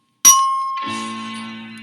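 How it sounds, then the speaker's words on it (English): A read-along storybook's page-turn chime: one bright bell strike that rings out and sustains, then a lower layered tone joins and hangs evenly to the end, with no voices. "when you hear this chime, turn the page"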